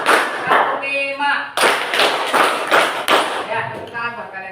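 A classroom of students claps through the 'tepuk semangat' routine: repeated sharp group claps in an uneven rhythm, close and loud, mixed with children's voices talking and chanting.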